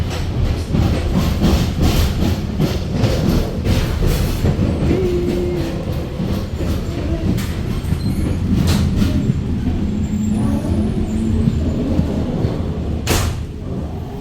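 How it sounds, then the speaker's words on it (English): Interior of an urban commuter train running from Naples to Pompei, a steady loud rumble of wheels on rails with rhythmic clacking, occasional faint squeals and sharp knocks, continuous throughout with no talking. "So we're on the train from Naples, headed to Pompei."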